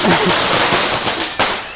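A Diwali firecracker goes off with a sharp, loud bang near the end, over a dense crackling roar of fireworks and faint voices.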